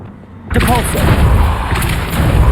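A Depulso force spell cast in Hogwarts Legacy lands as a sudden booming thump, then a dense rumbling burst with faint ringing shimmer that carries on for about two seconds. A voice may be present, but no words come through.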